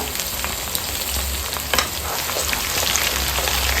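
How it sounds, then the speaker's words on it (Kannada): Finely chopped medium onions frying in oil with mustard seeds, a dense continuous sizzle with a brief stirring scrape partway through, close and steady with no talk. "ಈರುಳ್ಳಿ ಚೆನ್ನಾಗಿ ಫ್ರೈ ಆಗಬೇಕು"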